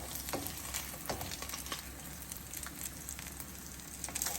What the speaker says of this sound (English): while my Spam is still cooking and everything